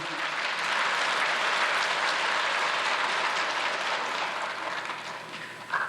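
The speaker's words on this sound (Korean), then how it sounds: "박수를 쳐주시는 것은 고마운데" A congregation applauds during a church sermon, a dense sustained wash of clapping that stays loud for several seconds, then thins near the end.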